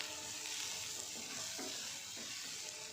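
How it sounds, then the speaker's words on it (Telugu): Okra and onions fry together in a pan with a steady, close sizzle of hot oil that holds evenly throughout, with a few faint stirring scrapes partway through and no talking. "బెండకాయలతో పాటు ఈ ఆనియన్స్ ఫ్రై అవ్వాలి ఈక్వల్గా"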